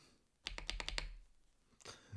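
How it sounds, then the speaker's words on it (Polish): Space bar on a YINDIAO Y95 mechanical keyboard pressed in a quick run of about five close, crisp clicks, then one more press after a short pause, near and quiet. "Teraz posłuchajcie, jak działa klawisz spacji"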